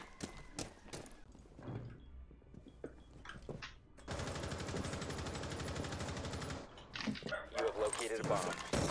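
Dog barking in a Rainbow Six Siege match, rapid harsh bursts filling about two and a half seconds mid-clip amid game sounds and players talking before and after.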